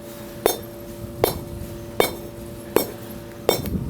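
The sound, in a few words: hammer striking a block of PiN Foam building material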